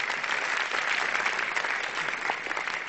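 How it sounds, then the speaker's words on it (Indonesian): Audience at a stand-up comedy open mic applauds for Dokter Tarek, a steady wash of clapping at moderate volume that holds through the whole stretch without any voices. "kita beri tepuk tangannya meriah ini ya"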